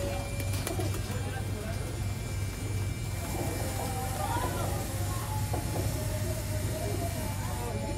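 Pigeons coo softly over a constant low rumble, with murmuring voices in the background.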